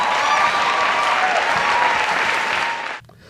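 Dense, loud applause from a crowd of Hillary Clinton's supporters after her speech, steady clapping that cuts off abruptly near the end.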